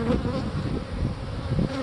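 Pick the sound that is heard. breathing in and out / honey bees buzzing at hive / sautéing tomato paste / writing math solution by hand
honey bees buzzing at hive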